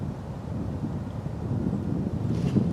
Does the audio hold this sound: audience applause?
no